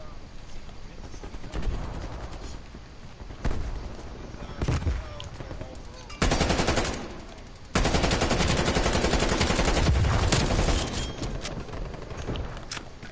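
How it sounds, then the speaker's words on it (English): Rapid automatic gunfire in Call of Duty: Cold War, attributed to a sentry turret, comes in repeated loud bursts with short gaps, a long sustained burst near the end, and game sounds beneath. "Sentry turret functioning."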